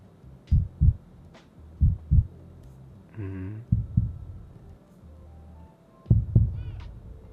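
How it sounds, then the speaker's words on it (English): A heartbeat sound effect from a stock library: soft, low double thumps in pairs, repeating about every second and a half with brief pauses between, alone with a faint hum beneath. "So let's go back into epidemic sound and type heartbeat."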